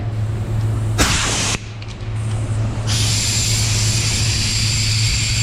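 Compressed air hisses loudly and continuously across a freshly painted car repair panel between coats, with a short burst at the start and then a steady, sustained rush.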